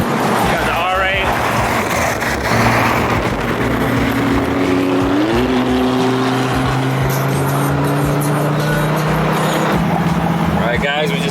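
A Dodge Viper ACR engine drones loudly and continuously on the Bay Bridge in San Francisco, its pitch climbing through a gear change, with wind and road roar all around.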